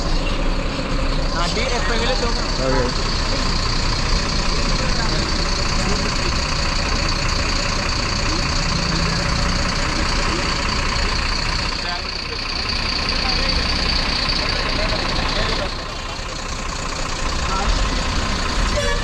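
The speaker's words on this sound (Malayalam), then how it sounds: "ബസ് വന്നിട്ടുണ്ട്. ഇതാണ് ബസ്." A bus idles at a stop outside a metro station in Kerala, its steady engine rumble and hiss filling the whole stretch while a person talks over it nearby, with a brief dip in noise partway through.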